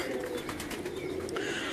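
Pigeons coo softly on a rooftop in Lahore, a low steady murmur from a few birds nearby with faint wing or shuffling sounds, no voices.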